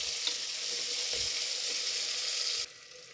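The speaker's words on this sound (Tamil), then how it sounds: "வெங்காயம் நல்லா ப்ரௌனாக ஆகிற வரைக்கும் நல்லா வதக்கிக்கணும்." Onions and cashews frying in oil until golden brown, a steady close sizzle that runs evenly and then drops off sharply near the end.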